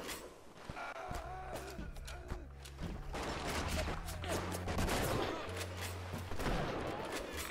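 Shotgun blasts in BioShock fire amid a noisy combat scene, with several loud sharp reports and mechanical clatter over a droning low hum, while someone speaks at times.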